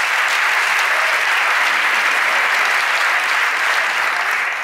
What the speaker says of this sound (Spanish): Muchas gracias por sus aplausos y por el recibimiento.